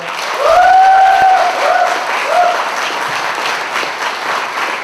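An audience at a Pyeongtaek city public officials' presentation event gives a speaker loud, sustained applause, swelling early and then easing slightly but continuing throughout, with a faint tonal whine riding over it at the start.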